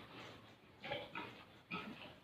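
Pigs in a storm-damaged pen grunt and oink in three short bursts against a noisy farm background, moderately near.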